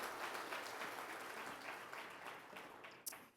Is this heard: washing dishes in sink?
no